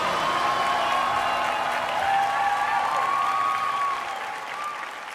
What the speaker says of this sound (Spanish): Un aplauso para estos musicazos, por favor.